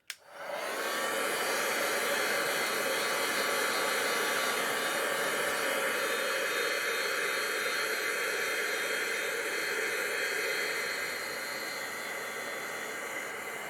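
A heat tool blows steadily and loudly while heating a craft project decorated with green feathers, a continuous close-up whooshing roar that starts abruptly and holds almost unchanged to the end with no voices over it.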